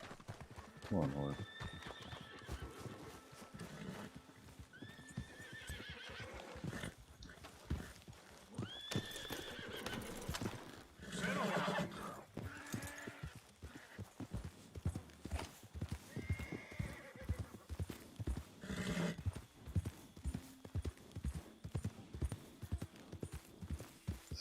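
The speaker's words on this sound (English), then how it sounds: "Come on, horse." Horse hooves clip-clop in a steady rhythm with several whinnies and neighs in a video game, up close and mixed with game effects and someone talking over it.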